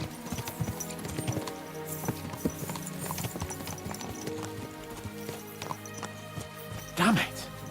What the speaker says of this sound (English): Let's really spur these horses on, eh?